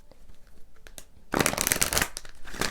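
Tarot cards are shuffled by hand: a few soft taps and riffles at first, then a loud, close burst of rapid papery riffling that continues to the end.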